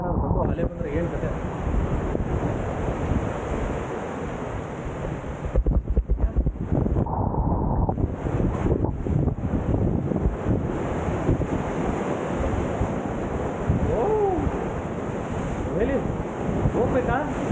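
Ocean surf and gusty wind at an Indonesian beach roar continuously and loudly, with wind buffeting the microphone and a brief lull partway through, under faint voices.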